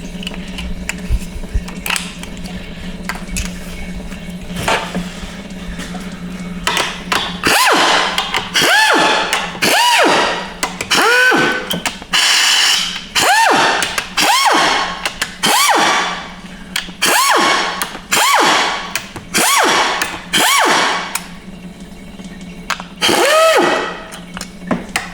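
A 10R80 automatic transmission being taken apart, with loud, close clanks, thuds and ratcheting bursts in a steady rhythm over a constant low hum, and no talking.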